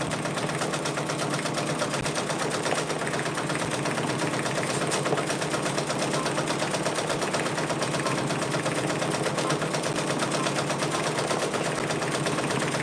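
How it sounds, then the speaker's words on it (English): A Brother Persona PRS100 embroidery machine stitches patches with a fast, continuous buzzing chatter of the needle that holds a steady, moderately loud level. "y'all are in here watching me embroider some patches"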